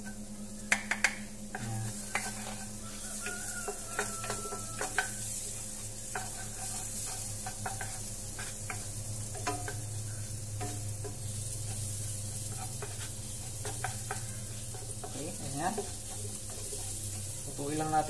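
Chopped garlic and onion sautéing in a pan for pasta carbonara, a steady close sizzle with occasional stirring scrapes and clinks running throughout.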